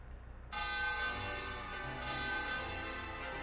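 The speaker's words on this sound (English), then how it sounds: "I am ringing the bell." A bell rings in the video game Klonoa, a bright sustained metallic tone with many ringing overtones that starts suddenly after a short quiet moment and then hangs steadily at moderate loudness.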